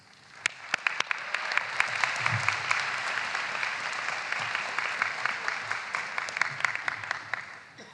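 Warm audience applause at a business school convocation, a steady wash of many hands clapping that swells and holds for several seconds, with a few sharper individual claps standing out.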